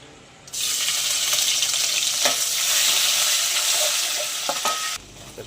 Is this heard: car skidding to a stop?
no